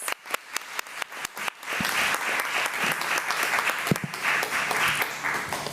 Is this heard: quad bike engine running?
no